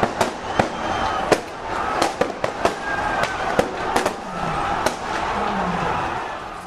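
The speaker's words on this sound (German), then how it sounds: "Schüsse fallen." A rapid, irregular string of sharp, cracking shots, around a dozen, rings out over a steady murmur of outdoor crowd noise in front of a television building.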